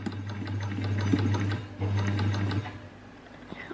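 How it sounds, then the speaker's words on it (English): A sewing machine stitches a zip close to the fabric edge with a steady, close mechanical whir and fast rhythmic needle clatter, pausing briefly midway before slowing to a stop. "the last time I probably put a zip in with this sewing machine was probably when my son was a baby"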